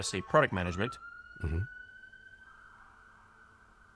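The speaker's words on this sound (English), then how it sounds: "Just waiting for that siren to go away." A fire truck siren in San Francisco holds a steady, high wailing tone that slowly fades away. It is faint and distant, following brief talk at the start.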